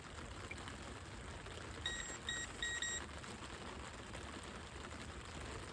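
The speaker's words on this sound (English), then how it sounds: "I'm getting bites on both rods here. The alarm's going off, the quiver's going off." A carp fishing bite alarm on a method feeder setup gives a few short, high electronic beeps in quick bursts over steady outdoor background noise, fairly faint and with no talking.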